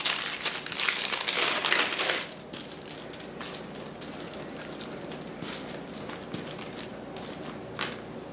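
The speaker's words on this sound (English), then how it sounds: "Use the paper, the wax paper, to kind of guide the rolling of the nut roll." Wax paper crinkles and crackles as a caramel pecan nut roll is rolled up by hand, dense close rustling that is louder at first, then steadier and softer.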